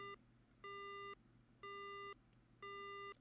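Three evenly spaced electronic beeps sound after a phone call cuts off in a horror video game, each a steady tone of about half a second with short gaps, clear and close over faint background hum.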